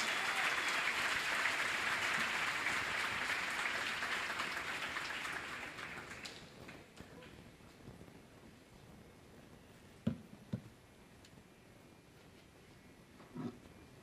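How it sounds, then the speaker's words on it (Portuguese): Warm applause from a forum audience welcoming a career speaker, a thick wash of clapping for about six seconds that fades out, leaving a quiet room with a few scattered knocks and handling thumps. "peço que recebam com uma calorosa salva de palmas Suzana Sonsin"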